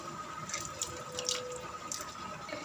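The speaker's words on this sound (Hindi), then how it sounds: "ये हमने सब्जियों को ठंडे पानी में डाल दिया है" Boiled vegetables sit in cold water in a kitchen, with a soft, steady watery trickle and a few faint drips and sloshes, quiet and without talk.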